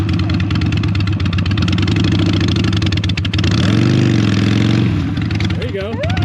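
A Harley-Davidson Sportster motorcycle rumbles loudly up close, then its engine swells into a rising rev as the clutch is popped for a burnout, with people talking over the noise.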